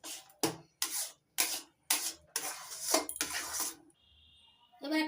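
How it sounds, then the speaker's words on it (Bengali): Raw mango mixture stirred with chili flakes in a metal bowl, giving a series of short scraping, rubbing bursts with brief pauses between them, close and fairly loud, ending with a few light clinks. "চিলি ফ্লেক্স দিয়ে ভালো করে মিশিয়ে নিচ্ছি।"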